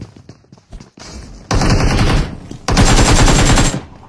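Video game gunfire during a drop shot, a short crackle of fire followed by two sustained, loud bursts of rapid automatic shots that end abruptly.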